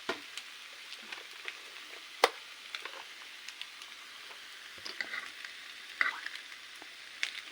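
Chicken pasta sizzles softly in a hot pan, a faint continuous frying hiss broken by occasional light scrapes and clicks of a spoon stirring it, fairly quiet and without any talk.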